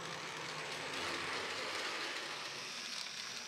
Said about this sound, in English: The loco also crawls very nicely.